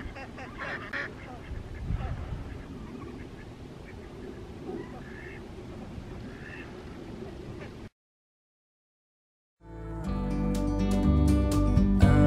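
Ducks quack and honk loudly in a noisy burst near the end, after a stretch of quieter outdoor sound and a brief silence.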